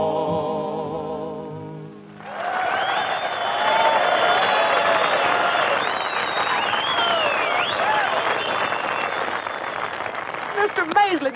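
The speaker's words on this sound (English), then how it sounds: "Did you hear that crowd cheering?" A large crowd cheering and whooping at a rodeo-style show in a 1944 Western film, loud and sustained with shouted voices rising above the roar, following a brief stretch of music.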